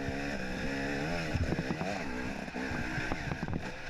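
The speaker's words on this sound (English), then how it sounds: "That's the sound of Graham Jarvis's Husqvarna chasing Johnny Walker." Husqvarna enduro motorcycle engine at the Romaniacs hard enduro race, chasing another rider, revving and bogging with shifting pitch as the throttle opens and closes, close and loud without talk.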